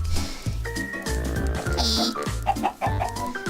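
Minecraft chickens cluck in short, bouncy bursts over a busy electronic game soundtrack, with quick repeated calls throughout.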